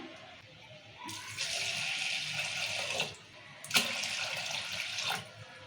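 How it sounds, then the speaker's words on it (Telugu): Water is poured into washed toor dal in two steady, rushing pours separated by a short pause, close and fairly loud, with no talking. "ఇప్పుడు ఇలా వాటర్ పోసుకుందాము"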